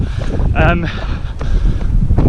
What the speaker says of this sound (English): God, it's so windy